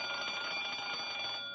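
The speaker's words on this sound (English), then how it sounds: "I better test the burglar alarm." A burglar alarm rings steadily in a store, sounding loud and close with an unbroken electric bell tone that runs for the entire stretch.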